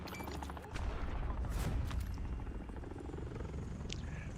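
A helicopter in the video game Call of Duty: Warzone drones with a steady, rhythmic rotor chop, fairly loud and continuous, with faint crackling bursts and a sharp thump near the end.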